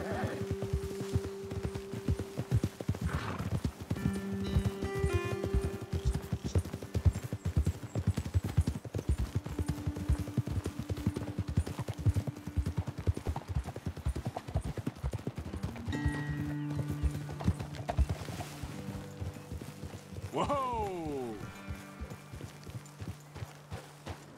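Steady clip-clop of horses' hooves trotting continuously in the video game Red Dead Redemption 2, with people talking over it and a horse whinnying near the end.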